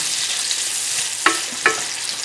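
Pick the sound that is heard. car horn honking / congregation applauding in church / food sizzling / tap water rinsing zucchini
food sizzling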